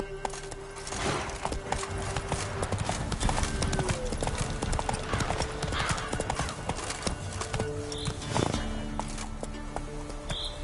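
Hoofbeats of Roach, the horse in The Witcher game, clip-clop steadily at a gallop throughout, with a brief whinny, layered under game ambience and occasional talk.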